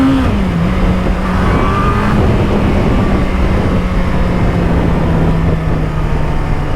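A 1998 Yamaha R1 motorcycle engine runs loud and close, its pitch dipping early and then holding a steady drone under continuous mechanical and wind noise, with no talking.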